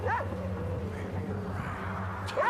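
A dog whimpers and yips in high, wavering cries at the start and again at the end, with a steady low hum running beneath.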